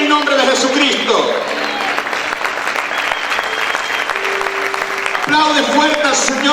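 Church congregation applauding during a Spanish-language service: continuous clapping runs throughout under a preacher's sustained, amplified voice, with music-like tones underneath.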